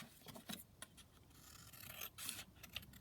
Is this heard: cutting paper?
yes